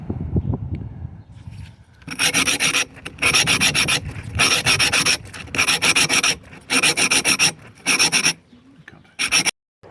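A cut glass bottle is sanded by hand with 60 grit sandpaper in a run of brisk, rhythmic rasping strokes that start after a quiet moment, close and fairly loud, with short pauses between strokes and no voices.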